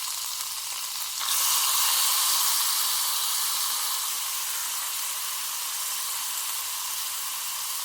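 A ground masala paste for prawn masala hits the hot pan with a sudden loud sizzle after a quieter hiss, then keeps frying in a steady, dense crackle at close range.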